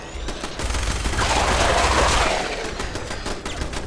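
Turret gunfire in the Fallout 4 video game, a rapid dense burst of automatic shots that builds and fades over a few seconds, loud and close with no talk over it.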